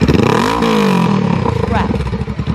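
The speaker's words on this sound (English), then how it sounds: "Okay, rev it." A 2018 Honda CBR500R fitted with a short slip-on exhaust revs loud and close, its engine tone climbing and falling through a couple of throttle blips before it settles into a lumpy idle.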